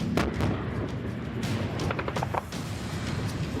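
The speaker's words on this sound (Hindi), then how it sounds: "यूक्रेन के तोप ये गोले बेलारूस से लगने वाली सीमा के काफी करीब बरसा रहे हैं।" Ukrainian army artillery cannons fire shells during a military exercise near the Belarus border, producing several loud booming blasts in irregular succession over a dense, rumbling outdoor background.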